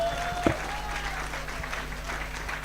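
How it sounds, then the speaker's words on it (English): A ceremony audience applauds at a medical camp closing, steady sustained clapping from a crowd filling the room, with a brief sharp knock near the start. "We are supposed to clap for her till she sits."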